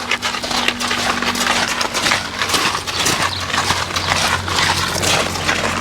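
A Suffolk Punch stallion pulls while being driven on lines toward the barn, giving a steady stream of crunching, clopping hoof and harness noise mixed with rustling outdoor ambience and a low hum.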